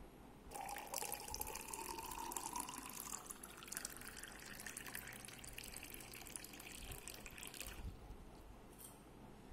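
Cold water poured into a glass while making masala lemon juice: a steady trickling pour whose pitch rises as the glass fills, then stops, faint and close with no talking.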